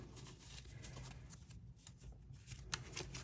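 Tarot cards shuffled by hand, giving a close, steady riffling and flicking that runs the whole time with no talking.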